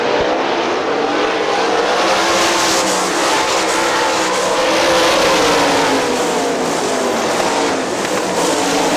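Sprint cars racing at Hartford Speedway Park, a dense, loud, sustained engine roar with overlapping revving from several cars passing close throughout, no voices.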